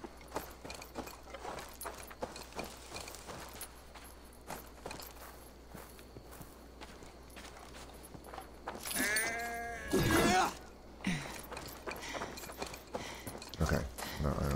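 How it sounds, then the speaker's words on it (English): Sheep bleat in the Viking-era Assassin's Creed Valhalla video game during a festival scene, with a loud burst of bleating mid-clip over footsteps, clip-clop movement and steady game background noise. "I don't need to bash this sheep to death"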